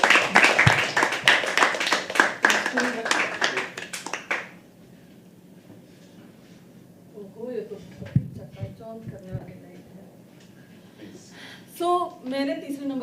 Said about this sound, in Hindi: जब तक स्टेज पे नहीं आती तब तक तालियां बरकरार रखिए दोस्तों